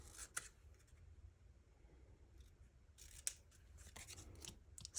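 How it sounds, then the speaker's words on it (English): Scissors snipping through paper in a papercraft session, a few quiet sparse cuts with soft rustling between them, fairly faint and with no talking. "Snips, snips, and snips."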